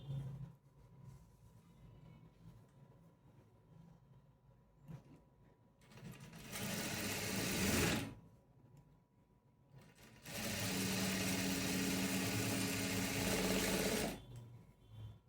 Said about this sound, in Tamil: ஒரு 1/4 இன்ச் மட்டும் மடித்து அந்த மடித்ததில் தையல் போட்டுக்கிறேன்